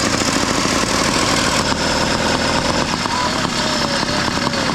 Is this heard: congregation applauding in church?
no